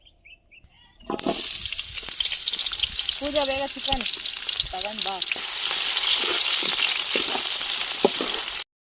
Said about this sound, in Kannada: ಎಣ್ಣೆ ಕಾದಿದೆ. ಇವಾಗ ಈರುಳ್ಳಿ ಹಾಕ್ತಾ ಇದ್ದೀನಿ.